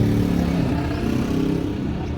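An auto rickshaw engine in Delhi runs steadily as the ride gets underway, a continuous mid-pitched motor drone held at a constant level throughout with no voices.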